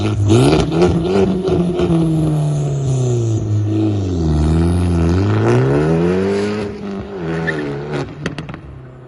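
An Abarth Punto's engine revs up and down through several loud swells, its exhaust note rising and falling before settling into a lower rumble.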